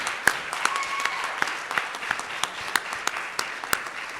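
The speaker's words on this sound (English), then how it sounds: "please give one more round of applause to our Little Hero finalist and winner" Audience applause at the 2022 Heroes at Home Awards in Hampton Roads, honoring a Little Hero finalist and winner: steady, dense clapping from a crowd throughout, with a few sharper individual claps standing out near the front.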